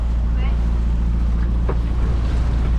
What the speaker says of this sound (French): On a toujours un petit peu de moteur.